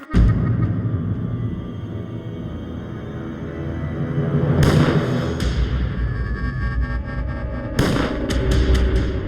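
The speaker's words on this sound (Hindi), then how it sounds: "प्रभु गोलियां चलने की आवाज" Gunfire in a comic television episode cracks out in two sharp bursts of quick shots several seconds apart over a steady low background drone.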